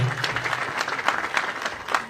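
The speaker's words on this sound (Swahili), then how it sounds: "Tushangilie tena kwa makofi tafadhali." Warm applause from a crowd at a Kenya Air Force anniversary cake cutting, dense steady clapping throughout at moderate distance with no voices standing out.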